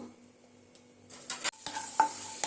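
Small pieces of coconut frying in ghee crackle and sizzle softly, then a few louder bursts of stirring and scraping, close by, with no talking.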